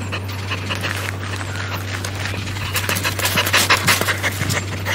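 Dog panting steadily at a dog shelter, rhythmic breathy huffs close by over a constant low hum, with faint clattering and busy background noise building toward the end.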